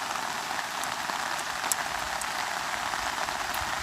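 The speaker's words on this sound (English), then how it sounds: "If you can hear the rain right now, I'd say this is over an inch an hour." Steady, heavy rain of over an inch an hour pours down on a road without pause, a dense hiss of drops striking a surface with occasional louder splats.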